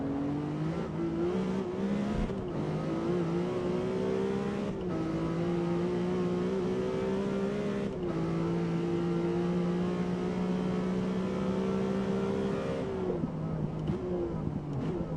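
Engine of a McLaren Artura V6 hybrid in Gran Turismo 7, a steady, close, loud drone held at high revs with a few brief gear-shift dips and a drop near the end.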